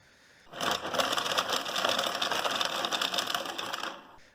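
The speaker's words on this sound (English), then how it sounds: "I started recording myself shuffling those cards" Mechanical card deck shuffler running through two decks of cards, a dense rapid whirring flutter that starts abruptly, holds steady for about three and a half seconds, then cuts off, heard alone.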